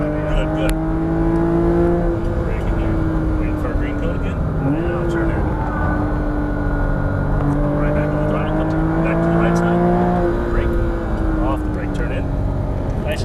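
A Porsche Cayman GTS engine pulls hard on throttle, its steady rising drone climbing through the revs with a brief dip around a gear change, loud and close throughout the run.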